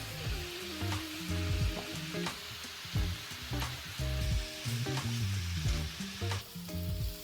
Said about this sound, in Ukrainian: А на сусідній сковорідці підтушковується капусточка